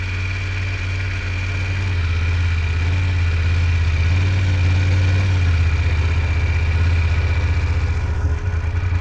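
A motorcycle engine idling and running at low throttle during a slow-speed U-turn riding drill, a steady low rumble with a constant mechanical hum, close and continuous with no talk.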